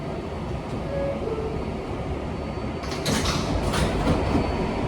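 A Manhattan-bound NYC Subway 7 local train in motion, a steady close rumble of wheels on track that grows rougher and louder toward the end, with brief squeals and rattles.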